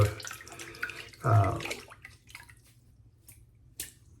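A shaving brush is rinsed under running water at a sink, brief splashing bursts followed by scattered close drips and trickles, with no talking.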